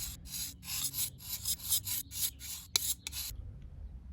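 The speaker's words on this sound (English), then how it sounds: "So in about 10 or 15 minutes I was able to sharpen both sides of my mower blade" Diamond file rasping across a lawn mower blade edge in about ten rhythmic strokes, close and fairly loud, each stroke a bright scrape with short gaps, stopping in a near-silent tail.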